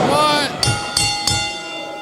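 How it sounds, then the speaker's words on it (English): A bell rung three times in quick, even strikes, each leaving a bright lingering ring, following a brief burst of voice and noise at the start. "Ring the bell."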